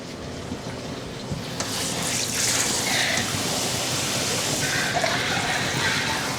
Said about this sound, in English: So I'm filling up some warm shampoo for Rosie.